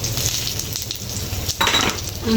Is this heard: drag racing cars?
no